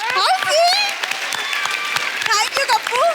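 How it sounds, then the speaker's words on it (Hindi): Studio audience applause on a Hindi television comedy talk show swells and holds under lively overlapping voices and shouts, loud and continuous. "जोरदार तालियां एक बार।"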